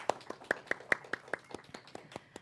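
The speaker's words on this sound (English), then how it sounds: "let's give a big round of applause for them" Applause from a church service audience greeting guest speaker Reverend Raymont Anderson: sparse, individually distinct claps in an uneven rhythm, moderately near and thinning out toward the end, with no talk over them.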